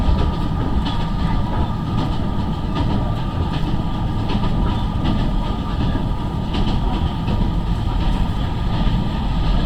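A DEMU diesel-electric multiple-unit train on the Nay Pyi Taw to Yangon line rolls steadily along the tracks with a constant low rumble and rhythmic rattling of the carriages, close and continuous.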